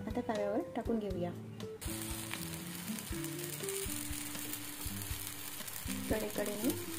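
Cucumber thalipeeth sizzling steadily in oil on a hot iron tawa over low heat, a continuous frying hiss with a voice talking over much of it.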